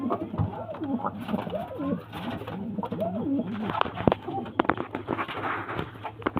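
Pigeons cooing at close range in a bird-selling setting, repeated throaty rolling coos with some fluttering and shuffling, while someone talks over them.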